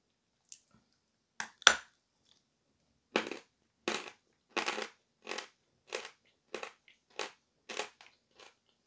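Edible chalk bitten and chewed in a series of about ten crisp, dry crunches, close and loud, with short pauses between bites and no talking.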